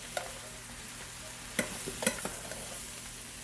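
Brussels sprouts frying in a pan with seasoning are stirred, giving a faint, steady sizzle broken by a few soft scraping spatula strokes, with no talking.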